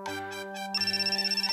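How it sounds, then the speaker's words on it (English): A phone ringtone in a visual novel game plays alone: an electronic tone, then a steady pulsing ring with evenly spaced beats, loud and clear. "At this point, Tencho's phone rings."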